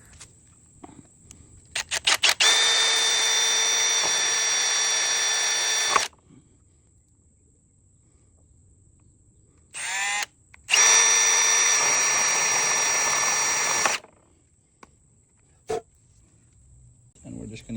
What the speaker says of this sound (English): Next, I'm going to use a drill bit right here.